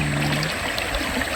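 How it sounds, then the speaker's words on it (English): A river flows in a steady, close, unbroken rush of water around a riverside campsite. "the peaceful sounds of the river"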